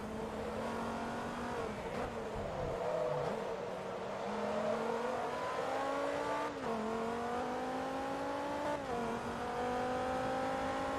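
An American car's engine racing in Forza Motorsport 2, a steady loud drone that climbs in pitch through each gear, with several quick shifts dropping the note before it rises again.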